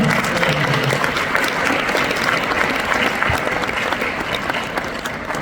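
A congregation at a ministry graduation ceremony gives Reverend Addison loud, continuous applause, with dense clapping and some crowd voices mixed in throughout.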